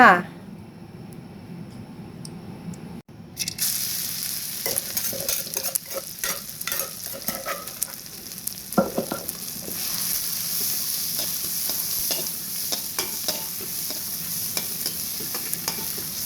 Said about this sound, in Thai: ผัดพริกกับกระเทียมให้หอมๆก่อน